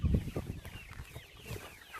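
Hungry farm chickens cluck and chatter just before feeding, with a cluster of soft, close, irregular clucks and murmurs and no talking.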